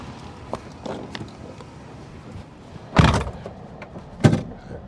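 Pickup truck door handling: scattered soft knocks and rustles, then two loud, close door thuds about a second apart, the second one the sharpest slam.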